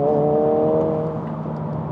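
A 2024 Honda Civic Si accelerates hard from inside the cabin, its engine note droning loud and then dipping slightly as the revs shift, with no voices.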